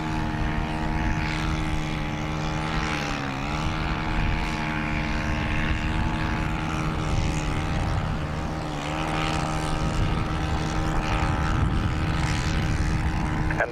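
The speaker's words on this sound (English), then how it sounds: "Virgin A350 overhead from Manchester is what was making that noise" Virgin Atlantic Airbus A350 jet flying overhead after departing Manchester, a steady loud engine roar with a layered droning hum throughout, heard outdoors from the ground.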